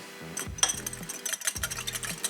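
Eggs and vanilla whisked together in a measuring cup, giving quick, light clinks and scrapes in an uneven rhythm, close up and fairly quiet, with no talking.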